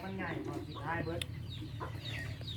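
Chickens and ducks clucking and calling while feeding, close and busy, with a person talking over the birds.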